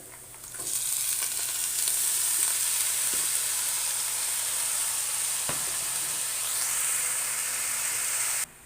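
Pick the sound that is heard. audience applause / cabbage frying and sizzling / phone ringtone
cabbage frying and sizzling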